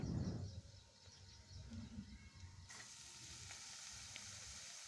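Chopped cabbage dropped into a hot pan to sauté, giving a loud initial burst followed by a faint, steady sizzle and light stirring, with no voices.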